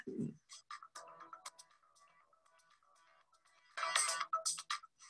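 A short bright electronic tone chimes at the start, followed by quiet tonal blips and a louder burst of chiming notes near the end.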